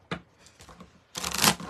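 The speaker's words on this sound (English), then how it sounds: "And I like shuffling this deck" Deck of pink oracle cards being shuffled by hand, a few soft taps and riffles followed by a brisk, louder burst of card shuffling up close.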